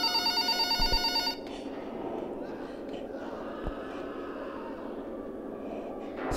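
A phone rings in the horror video game Exanimum: The Silent Call, a loud electronic trill repeating for about a second before cutting off, followed by quieter ambient game sounds.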